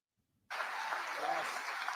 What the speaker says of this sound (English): And they're all clapping.